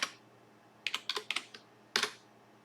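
Typing on a computer keyboard at a command prompt, a short burst of crisp close keystrokes after a single tap, ending in a firmer key press.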